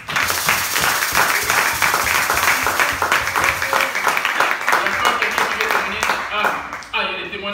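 A church congregation claps together in praise at a Sunday service, dense rhythmic applause carrying on steadily under singing and voices before tapering into scattered claps near the end.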